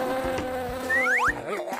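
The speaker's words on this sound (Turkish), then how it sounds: "İşte bir sinek." A fly buzzes close by with a steady droning hum and brief rising whines, alone without voices, in a playful real-life Super Mario scene.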